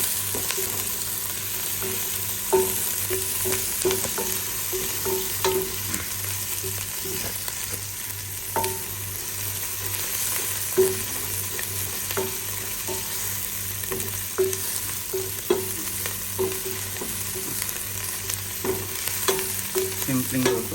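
Pancit bihon guisado noodles stir-fried in a pan with garlic give a continuous oily sizzle, broken by repeated scraping and clacking of the utensil against the pan, close and steady, with no talking.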